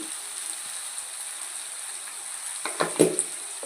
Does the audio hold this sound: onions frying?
yes